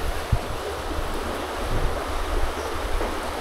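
Rough, storm-driven sea around an offshore kelong fishing platform: a continuous surging roar of heavy water and breaking waves, mixed with gusty wind buffeting the microphone, with no talking.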